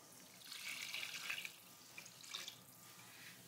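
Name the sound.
broth being poured into a pan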